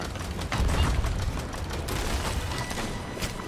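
Loud, dense booming blasts of video-game cannon fire during a sloop battle roll continuously, layered with rattling mechanical clatter, with no pause between shots.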